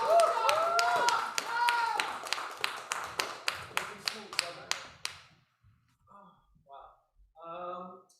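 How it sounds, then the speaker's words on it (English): A small open-mic audience claps as Josh comes to the mic, a run of distinct, evenly spaced claps under a host's voice, stopping abruptly before a few quiet spoken words. "Clap as Josh comes to the mic."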